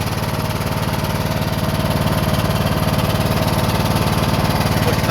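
Troy-Bilt Rider riding lawn mower engine running steadily, a loud continuous low throb with even rapid firing pulses, close by and alone without voices.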